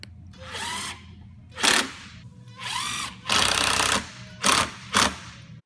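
Power drill driving screws to fasten the roof onto a wooden bat house, several short whirring bursts of varied length separated by pauses, loud and close.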